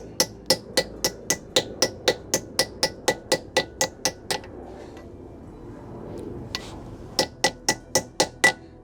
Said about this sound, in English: Don't take a lot to just tap that in.